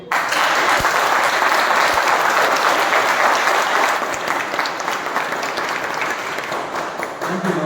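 A meeting audience claps steadily for a speech and its evaluation, a loud, even burst of many hands that holds throughout and eases a little toward the end.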